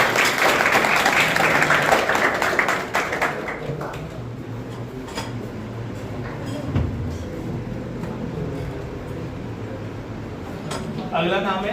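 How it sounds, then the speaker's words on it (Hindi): Audience applause welcoming a student selected into the UP Police at an academy honouring event, a burst of many hands clapping for about three seconds, then quieter room noise with scattered clinks and a brief clatter near the end. "तालियों से स्वागत"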